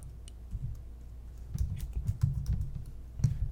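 Keys on a computer keyboard tap in quick, irregular bursts while text is entered in image-editing software, close and dry with short pauses between runs of clicks.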